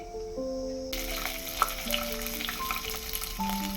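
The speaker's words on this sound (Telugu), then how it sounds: "నూనె వేడైన తర్వాత ఆవాలు జీలకర్ర వేసుకోవాలి" Mustard and cumin seeds sizzle and crackle in hot oil, a soft steady frying hiss with small pops, while a faint tone hums in the background.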